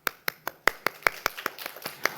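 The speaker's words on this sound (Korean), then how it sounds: "그 마음 가지고 박수 한번 쳐보세요." Church congregation clapping hands together in a rhythmic series of about a dozen sharp, evenly spaced claps, fairly close and clear with no talking over them.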